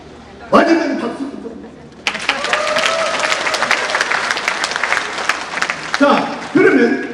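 An audience at a Korean talk on volunteering bursts into sustained applause, a dense clatter of many hands lasting several seconds, with some chuckles and a voice speaking before and after.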